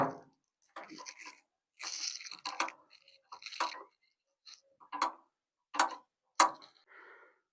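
Screws and nuts being worked loose behind the dashboard of a Zetor tractor, a string of short, close clicks, ticks and crunching scrapes in separate bursts with pauses between them, quiet and with no voice.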